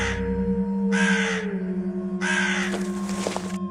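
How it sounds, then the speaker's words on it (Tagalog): Harsh, drawn-out cawing calls from a bird at night, three in a row with pauses between, heard over a steady low hum in a quiet setting. "Yun yung huni ng ibong narinig ko noong nakaraang gabi ha."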